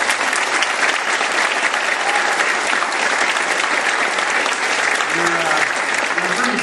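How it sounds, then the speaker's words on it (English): Loud, continuous audience applause after a piece at a May concert, thick steady clapping that fills the whole stretch at an even level, with a faint voice rising briefly near the end. "applause"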